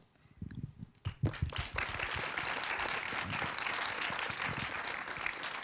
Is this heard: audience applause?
yes